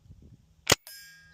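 One sharp, close crack from a .68 caliber pre-charged pneumatic air rifle, a loud short report followed by a faint ringing hiss as it fades.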